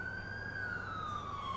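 An ambulance siren in the video game GTA IV with the LCPDFR mod wails in a steady, slowly falling tone, faint and distant over a low rumble of background noise.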